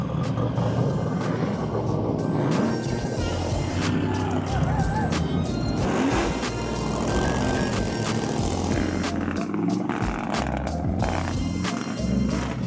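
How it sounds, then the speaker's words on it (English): Deep, throaty muscle-car engines rumble and roar continuously as they cruise past nearby down Main Street in Frankenmuth during an auto fest, with a steady loud growl and occasional revving swells. "The Friday night big black party starts off with a bunch of muscle cars cruising down Main Street"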